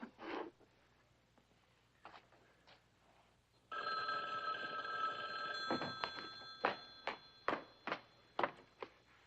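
An old-style telephone bell rings in a quiet room, a continuous metallic ring followed by several sharp repeated rings, close and clear, after a few faint knocks and rustles.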